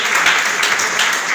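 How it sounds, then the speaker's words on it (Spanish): A church congregation breaks into applause during a sermon, a thick, continuous patter of many hands at close range that stays loud and uniform throughout the short burst. "Denle un aplauso al Señor"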